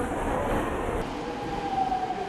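A subway train pulls into a station platform with a steady, loud rumble and a thin, high whine running through it, the tone shifting partway through as the cars arrive.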